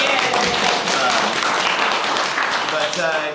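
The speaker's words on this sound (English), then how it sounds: "Give her a big round of applause" A crowd of residents at a Mahaska County community meeting about a proposed regional airport applauds loudly and steadily, with dense clapping and voices mixed in throughout.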